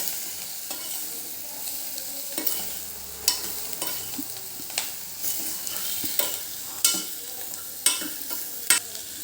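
A spoon stirs moth bean vada mixture just seasoned with salt, giving irregular scraping strokes against the vessel with a soft sizzle underneath, loudest in sharp bursts every second or so.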